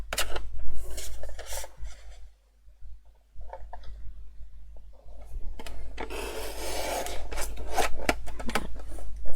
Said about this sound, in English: I'm going to cut that down to 3/4 of an inch